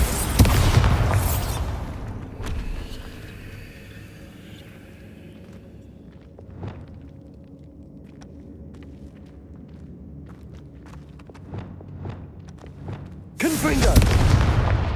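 Bombarda spell explosion in the video game Hogwarts Legacy: a loud booming blast opens, then quieter rumble with scattered thuds and footsteps, and another heavy burst closes at the end.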